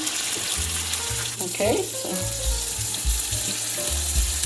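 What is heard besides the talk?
panzerotti frying in oil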